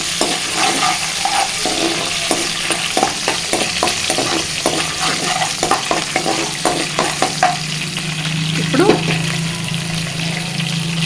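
Spinach and green pea curry with spring onion being stirred in a pan, with repeated scraping strokes over a low simmering sizzle, and a brief louder clatter near the end.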